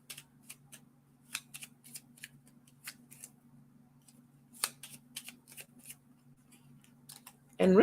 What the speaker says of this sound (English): I'm a little off with my shuffle.